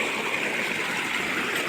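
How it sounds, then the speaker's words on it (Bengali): Water rushes steadily past a fishing net set in a stream, a dense, even roar like a small waterfall, continuous and close with no pauses. "মনে হচ্ছে ঝর্ণার জল"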